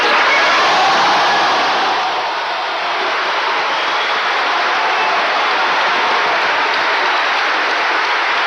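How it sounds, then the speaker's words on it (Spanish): Huge, dense applause from a large audience at a presidential swearing-in ceremony, a loud continuous roar of clapping that dips briefly and then holds steady, with no voices on top. "Tremendo aplauso"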